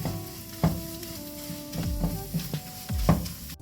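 Chilli and a pinch of garam masala frying in a pan for prawn roast, with a steady sizzle under repeated scraping stirs of a spoon against the pan, close and moderately loud, no talking.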